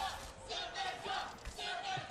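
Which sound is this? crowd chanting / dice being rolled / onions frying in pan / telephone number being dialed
crowd chanting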